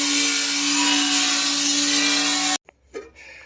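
A flap disc grinder works over a junk 904 transmission pan, giving a loud, steady abrasive whir with a constant drone for about two and a half seconds before it cuts off abruptly, leaving faint clatter.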